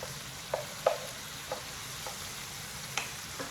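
Shrimp frying in a pan, a steady close sizzle with a few soft stirring clicks over it and no talk.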